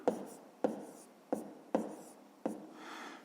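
Pen strokes on paper while numbers are written out by hand for a long-division sum, five sharp, close scratchy marks spaced about half a second apart, with a softer rubbing stroke at the end.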